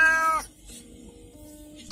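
A cat gives one clear, fairly loud meow, followed by a quiet pause and then a short bright ding at the end.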